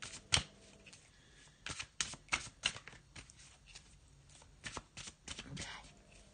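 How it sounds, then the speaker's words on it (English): Crisp bursts of tarot card shuffling, several quick riffles and flicks spread across the clip, close to the microphone with quiet pauses between. "I'm going to have a little shuffle and put down a Faulkner Tarot deck"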